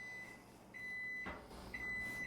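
A kitchen timer beeps in steady tones, three longer beeps spaced about half a second apart, faint over quiet room noise.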